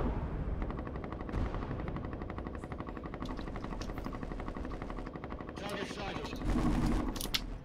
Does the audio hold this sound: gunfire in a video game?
yes